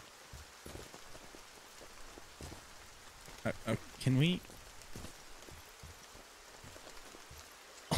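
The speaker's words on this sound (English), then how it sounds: "running through rain, and it's not going away." Steady patter of rain in a side-scrolling video game falls throughout, with a brief spoken question breaking in midway.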